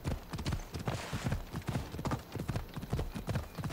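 A horse trots in the Assassin's Creed Odyssey video game, its hooves clip-clopping in a steady, rapid beat that runs throughout. The sound is fairly quiet and there is no talk.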